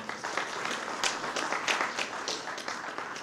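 Audience applause at a grant awards presentation, a steady wash of many hands clapping at moderate loudness with no voices over it.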